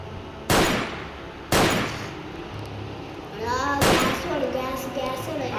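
Three sharp revolver shots blasting at zombies in a survival apocalypse video game, spaced about a second or two apart, each a loud broadband crack with a short decay, over a steady background of game sound and some talk.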